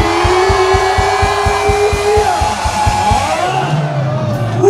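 A massed Korea University cheering section at a baseball stadium shouts in unison, a loud sustained roar of many voices over a steady pounding drum beat.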